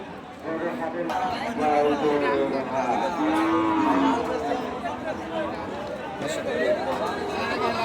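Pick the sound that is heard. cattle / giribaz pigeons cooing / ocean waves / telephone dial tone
cattle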